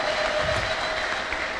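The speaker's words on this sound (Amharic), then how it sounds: "ለጌታ ከፍ ያለ ልልታ ጭብጨባ" A congregation at a church service applauds together in a steady, dense wash of clapping that fills the space and holds at an even, fairly loud level.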